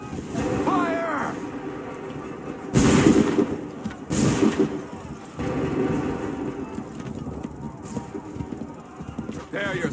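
Musket volleys crack out in Assassin's Creed III amid a busy battlefield, with two loud bursts standing out over constant rumbling noise and shouted orders.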